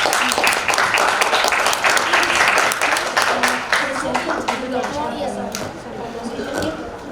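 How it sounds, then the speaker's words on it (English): Audience applause for a youth team after their business idea presentation at a festival competition, dense clapping from a sizable crowd that fades gradually over several seconds. "please applause for group 6."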